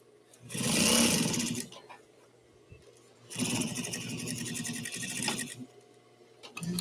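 An electric sewing machine hems over a fabric edge in two sustained bursts of fast, whirring stitching, close and steady, separated by a short quiet pause. No one speaks.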